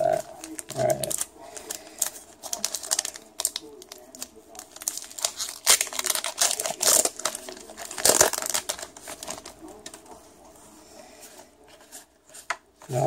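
Pokémon card booster pack wrappers being torn open by hand, with scattered crinkling and short ripping bursts of foil packaging, close and moderately loud, with brief pauses between handling sounds.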